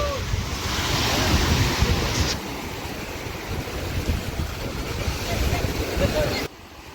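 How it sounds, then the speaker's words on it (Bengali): Arabian Sea waves wash onto the Mumbai shore in a continuous roar, with heavy wind buffeting the microphone. The wash drops to a softer level partway through. "সো এটা হচ্ছে আরাবিয়ান সি।"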